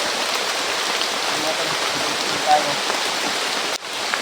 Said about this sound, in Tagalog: sobrang lakas ng ulan gaya ngayon ulan na naman.